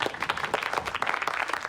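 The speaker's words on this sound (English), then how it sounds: "Do they have to applaud him every time he walks in?" A studio audience applauds on a television comedy show, a short burst of dense clapping heard at moderate distance.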